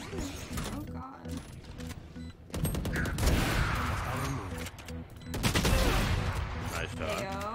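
Gunfire in the video game Valorant: rapid bursts of shots crackle in two loud clusters, with a brief lull between them, over excited player voices.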